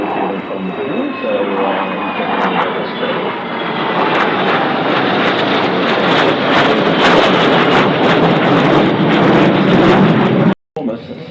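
Two F-35 fighter jets and a Super Hornet fly past at an Australian airshow, a loud sustained jet roar with wind buffeting, while an announcer talks over it.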